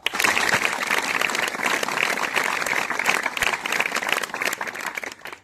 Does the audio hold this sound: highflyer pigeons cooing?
no